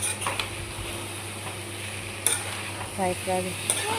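Chicken frying dry in a pan without any water for chicken kosha, a soft steady sizzle with occasional stirring scrapes and light clinks, heard close and without talk.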